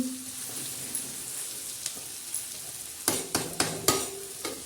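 Stuffed okra and eggplant with crushed peanuts cooking in a pan: a faint sizzle at first, then a run of sharp scraping stir strokes near the end, close and fairly loud.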